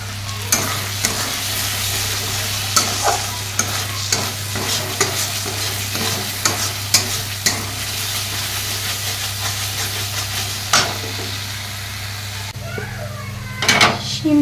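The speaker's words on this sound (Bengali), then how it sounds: "আর এখানে কষাচ্ছি পনিরের তরকারিটা" Paneer curry is stirred and fried in a pan, giving a loud, continuous sizzle and hiss with frequent scraping strokes of a spatula over a steady low hum, ending in a brief clatter.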